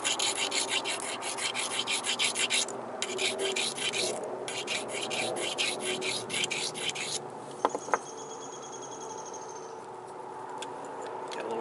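Green obsidian being ground along its edge during flintknapping gives a steady, close rasping scrape that runs through the clip with short breaks, ending in a couple of sharp knocks and a faint high tone.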